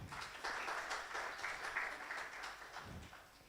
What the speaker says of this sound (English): Please clap for Dr.